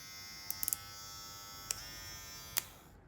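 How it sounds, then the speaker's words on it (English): Compact cordless hair clipper running on its low-speed setting, a quiet, steady electric buzz with a few sharp clicks and taps over it before it winds down at the end. "go to the low speed. Definitely the quietest clipper in the game."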